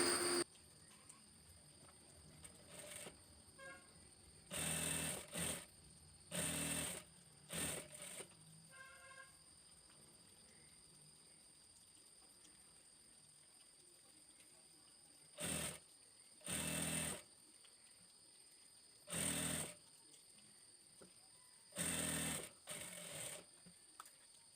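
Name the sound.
sewing machine stitching a sleeve on an Arabic dress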